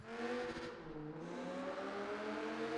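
A race car engine in Project Gotham Racing 4 drones steadily through a tunnel on the Macau circuit, a loud sustained harmonic whine holding near constant pitch with a brief dip, echoing and close, with no talk.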